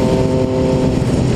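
A car passing close to a motorcycle on the road, a steady loud engine and road roar filling the short moment with no speech.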